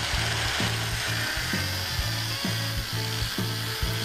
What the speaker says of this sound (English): I'm just going to use a grinder.